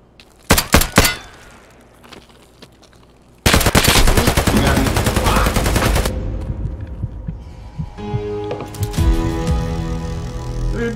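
Gunfire in Escape from Tarkov, P9 pistol: a few sharp close shots at first, then a long dense rapid burst of automatic fire, and after it tails off, more clattering shots with metallic ringing.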